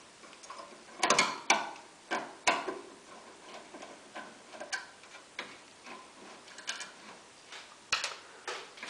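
A screw being unscrewed from a microwave oven assembly, a close series of small clicking ratchet-like ticks in an uneven rhythm, louder early then lighter, with no talk.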